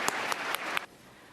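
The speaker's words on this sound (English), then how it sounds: "Let's give that daring person a round of applause" Audience applause at a university talk on the mysteries of the universe: a brief, fairly loud burst of clapping from the crowd that cuts off abruptly after under a second, leaving quiet room tone.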